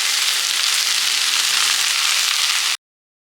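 Okra poriyal sizzles loudly in a pan as coconut paste is stirred in, a steady, bright frying hiss that stops abruptly.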